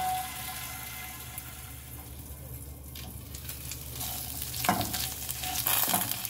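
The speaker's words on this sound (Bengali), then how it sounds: "আদা দিলাম। লিড দিয়ে ঢেকে দিলাম।" Ginger frying in hot oil in a pan covered with a lid, a steady muffled sizzle with low hum, then louder crackling bursts and rattles toward the end, close and without talking.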